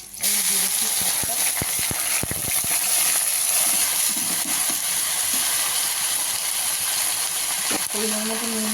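Green chillies frying in hot oil in a pan, a steady loud sizzle and hiss with a few small pops and crackles near the start.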